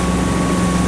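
Motorboat cruising at a little over 2,600 RPM and about 16 knots: a loud, steady engine drone with hull and water rush, continuous and close, no voices.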